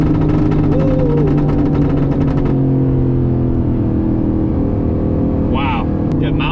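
A 2020 Aston Martin Vantage accelerates hard, its engine rising in a loud close roar that eases into a steady drone; a person's voice cuts in briefly near the end.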